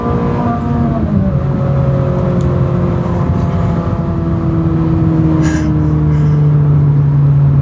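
A Ferrari 458 Italia's engine pulls hard through the gears, its loud, sustained tone rising in pitch and then stepping down with each shift, heard from inside the car without talk.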